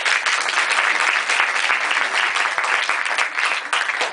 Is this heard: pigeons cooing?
no